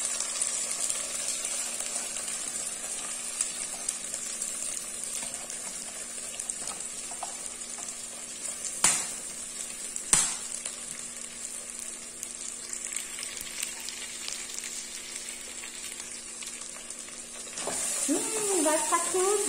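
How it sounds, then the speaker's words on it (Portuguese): Rice and corn fry in a pan with golden garlic, giving a soft steady sizzle with occasional utensil clinks and a couple of sharper taps, fairly quiet and close. "Vamos lá, fritar aqui o arroz."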